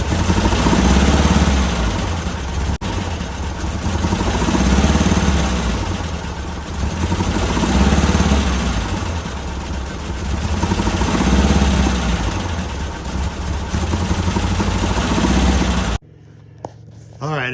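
A 1967 Volkswagen Beetle engine on Cadron carburetors runs rough and uneven, its loud, close idle surging and sagging in waves before cutting off abruptly near the end.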